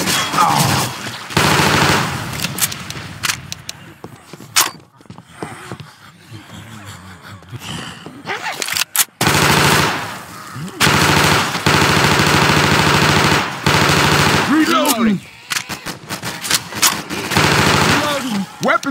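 Left 4 Dead 2 gunfire rattles in long, loud automatic bursts separated by short pauses across a custom campaign fight. Character voices and gasps break in between the volleys.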